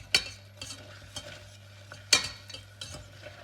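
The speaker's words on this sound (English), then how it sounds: "I'm going to keep stirring this." A thick, gluey cornstarch mixture stirred in a pan, spoon strokes scraping and tapping against the pan at an irregular pace, close and moderately loud, with faint sizzling underneath.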